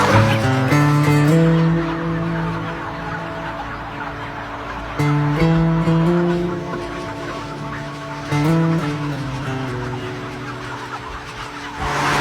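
Dense flocks of chickens in an intensive indoor poultry barn, a loud, constant mass of overlapping clucking and squawking that swells in waves and stays close throughout.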